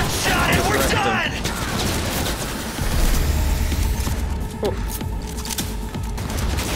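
Gunfire in the video game Cyberpunk 2077, a busy exchange of shots and mechanical clatter continuing throughout under a dense game mix, with talk heard at moments.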